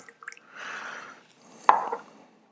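Water poured over raw pu-erh tea leaves for a quick rinse without a strainer, a short steady pouring splash followed by a sharper drip and trickle, close and fairly quiet.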